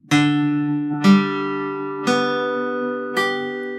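Guitar strings plucked one at a time, four separate notes each ringing out and overlapping at a slow, even pace, with no talking.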